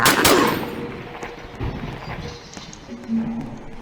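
Pistol shots in the video game Survive the Killers in Area 51, a few sharp cracks, the loudest right at the start, followed by scattered softer game noises.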